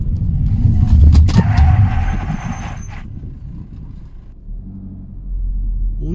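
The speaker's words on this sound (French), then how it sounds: "Allez, c'est parti, je freine, il n'y a personne derrière moi" A Peugeot 508 SW under emergency braking: loud road and engine rumble with a harsh scraping squeal of tyres that fades as the car slows, then a quieter low drone.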